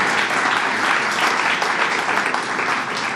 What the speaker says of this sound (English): So let's give Angie Carpenter a big round of applause.